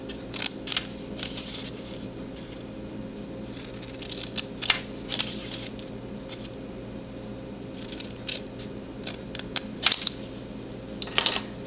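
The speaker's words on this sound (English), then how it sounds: "I'm going to take my scissors, and on each corner I'm just going to cut one side up to that scored line" Scissors snipping the corners of scored cardstock for a tissue box cover, a series of small crisp cuts in loose clusters over a steady low background hum, close and fairly quiet.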